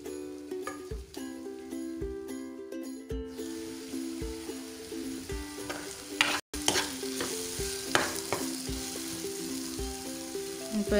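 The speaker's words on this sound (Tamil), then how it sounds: "இப்போ அரைச்சி வச்ச பவுடர் போட்டு நல்லா ஃப்ரை பண்ணிக்கோங்க." Ground spice powder frying in a pan for chow chow chops, stirred with repeated scraping strokes and a low sizzle, close up, with melodic background music running underneath.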